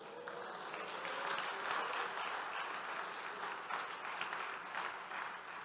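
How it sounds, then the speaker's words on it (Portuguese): A church congregation applauds during a Portuguese-language sermon, a steady, fairly soft wash of clapping from many hands that swells slightly midway and continues without talk. "Aplauda o Senhor Jesus."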